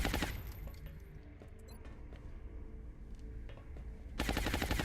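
Gunfire from the video game XCOM, loud dense bursts at the start and again near the end, with quieter game noise between them and no talking.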